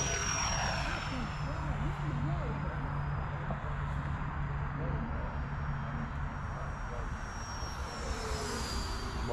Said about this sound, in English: on this pass, as I come right in front of me, I'm gonna go straight vertical.